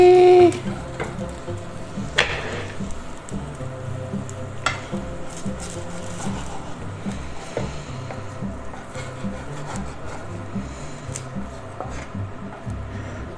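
Carbonara pasta frying in a pan, sticking to the bottom and starting to burn, gives a steady low sizzle with scraping and stirring clatter and a few sharp knocks of a utensil against the pan.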